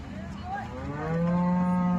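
A single long, low moo from a nearby dairy cow at a livestock market, rising and swelling in loudness as it holds.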